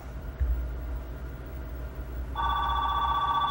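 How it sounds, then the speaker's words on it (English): A telephone rings in a low, rumbling room, with a steady, bright bell tone starting about two-thirds of the way in and continuing to the end. "Pick up the phone, Marvin."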